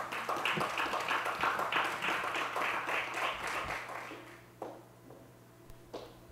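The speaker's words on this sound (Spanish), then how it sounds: "Demos un fuerte aplauso a Marcos Barinas." An audience at a talk on Hispaniola's cities applauds a speaker being introduced, a full round of clapping that fades after about four seconds into a few isolated, sparse claps.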